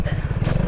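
An RFI 175 motorcycle on its first ride, with a steady low engine drone pulsing throughout at close range, loud and continuous with no talk.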